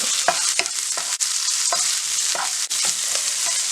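Chopped spring onions fry in oil with turmeric, salt and chilli powder, making a steady bright sizzle broken by repeated stirring scrapes of a spoon in the pan. Nobody speaks.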